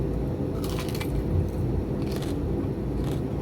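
Crunchy bites into crispy fried pork lechon kawali during a mukbang, several close, loud crackling crunches in irregular bursts over a steady low room hum.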